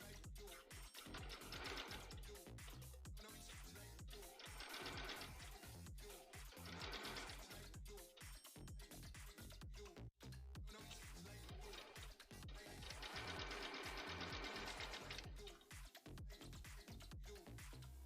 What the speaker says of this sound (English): So again, just still sewing in horsehair braid.